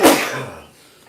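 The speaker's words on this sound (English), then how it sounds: "That was one of those like kick your chest in, kind of cave your rib cage in sneezes" A single forceful human sneeze, loud and close, bursting sharply and then trailing off into quiet within a second.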